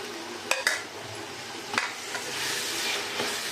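Soya chunks fry in butter with a steady, soft sizzling hiss, broken by a few sharp clinks and scrapes of a utensil stirring the pan, close and without talk.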